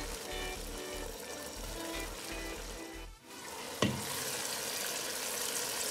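Whole cumin seeds sizzle and crackle in hot oil in a pan, a steady close frying hiss with a brief dip and one sharp clink partway through, with no talking.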